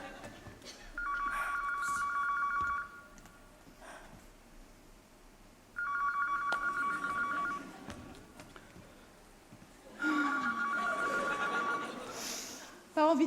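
A telephone rings in three separate bursts of bright, warbling trills, each lasting a couple of seconds with quieter pauses between, heard fairly close in a domestic comedy scene with faint background activity.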